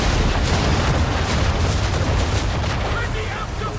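Swivel guns firing from a ship in Assassin's Creed 3 amid a naval battle, a dense, loud barrage of booming blasts and rumble that fills the whole stretch, with shouting voices mixed in.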